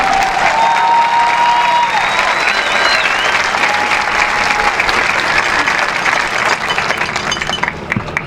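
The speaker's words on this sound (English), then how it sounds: "I think we deserve a round of applause." Graduation crowd bursts into loud, sustained applause with scattered whistles and cheers, a thick close wall of clapping that carries on for several seconds before thinning slightly.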